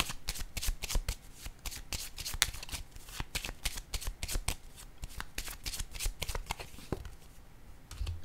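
A deck of tarot cards being shuffled up close, a steady stream of quick papery riffles and taps, then a brief pause before drawing, with no voices.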